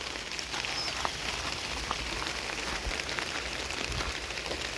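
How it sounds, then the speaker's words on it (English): Cold rain falling on a vegetable garden, a soft, even patter of drops on leaves and ground, faint and steady with occasional louder ticks. "Ooh, this rain is kind of cold."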